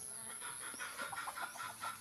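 Free-roaming chickens cluck in a quick, repeated rhythm, faint and somewhat distant, over a steady background hum.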